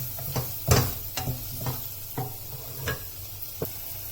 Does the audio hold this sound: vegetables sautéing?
yes